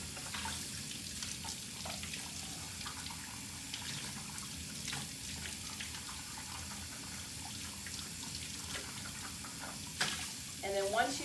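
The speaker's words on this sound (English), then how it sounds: "you want to rinse your bowl out while the plaster's still wet" Tap water running into a plaster mixing bowl as it is rinsed clean while the plaster is still wet, a steady close splashing wash that continues throughout, with a brief clatter near the end.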